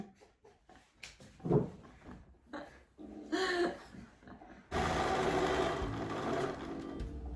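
A sewing machine runs steadily while stitching a pillowcase, its continuous mechanical whir starting partway through after a stretch of scattered handling noises and brief voices.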